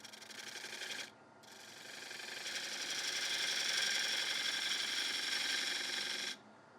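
A wood lathe turns a chopping board as a cutting tool shapes it, a steady whirring, scraping cut that briefly stops after about a second, resumes, builds slightly, then cuts off near the end.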